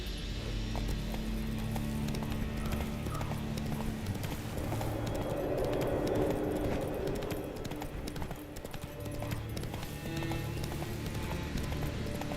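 A horse gallops in The Witcher 3 video game, its hooves drumming in a quick, steady clip-clop rhythm. Game ambience plays underneath.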